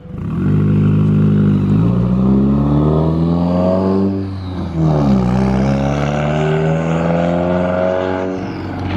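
A slammed Scion FR-S revs loudly and up close, its engine note climbing twice in long sweeping pulls with a brief drop in between, no talking over it.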